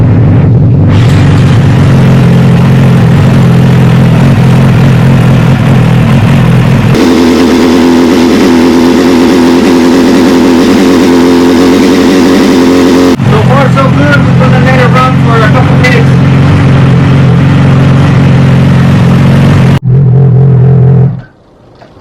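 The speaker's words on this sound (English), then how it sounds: "And we're gonna turn it on for a couple minutes." A Yamaha R sport motorcycle engine idles after an oil change, a loud, close, continuous rumble that shifts pitch slightly a few times before cutting off near the end.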